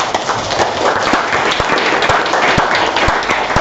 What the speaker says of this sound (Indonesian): Beri aplaus untuk kami